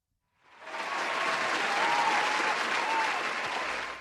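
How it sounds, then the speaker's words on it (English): Soundboard applause effect: a crowd clapping that swells in quickly after a brief silence, then holds as a loud, dense, steady wash of claps to the end. "that deserves a round of applause from the soundboard"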